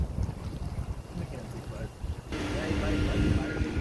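A leaf blower clearing a driveway outdoors on a windy day, a steady roaring whoosh that swells noticeably louder partway through, mixed with wind noise on the microphone and some background talk.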